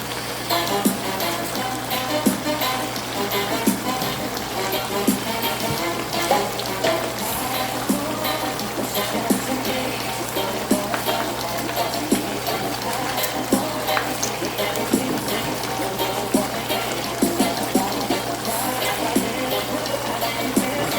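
Pak choi stems, the white parts, go into a hot pan for a Chinese vegetable and chicken stir fry, giving a steady, dense sizzle and frying hiss that runs throughout with scattered stirring scrapes and clicks, close and continuous.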